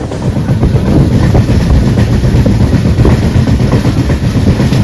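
Tamralipta Express 12857 from Howrah to Digha, heard from on board as it slows near the Pisabani river bridge: a loud, continuous rumble with rapid clickety-clack from the wheels and no talking.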